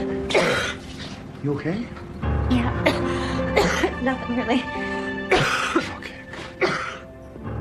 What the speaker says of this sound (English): The cough continued to get worse